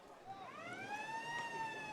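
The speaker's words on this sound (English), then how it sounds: "As we go into the half-time siren" A half-time siren at the 2024 Weissel Cup Grand Final rugby league match sounds as a loud, sustained wail that swells and holds steady for about two seconds over crowd and ground noise.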